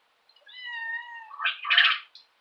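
A kitten gives a drawn-out, wavering meow followed by a rougher, louder cry, close and alone outdoors at a permaculture nursery.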